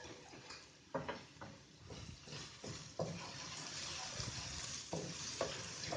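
Ginger garlic paste and chopped green chilies fry in a pan for a couple of minutes, with a steady sizzle broken by repeated clattering stirs and scrapes of a spoon, close and fairly loud.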